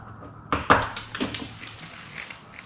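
Plastic door trim on a Land Rover Discovery 3 or 4 being popped loose, giving a few sharp close clicks and taps in a quick irregular cluster with faint rattles after.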